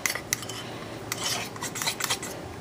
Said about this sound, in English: it's harder to stir at this angle